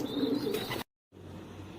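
A nesting pair of pigeons in a loft coos in low, rolling phrases, close and steady for most of a second, then a sudden dropout to silence before a faint background hum returns.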